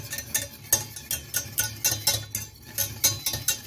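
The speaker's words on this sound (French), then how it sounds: "Avec un fouet, vous mélangez bien le tout." A whisk beating a thick cherry juice mixture in a bowl, quick rhythmic scraping strokes repeating about three times a second, close and steady.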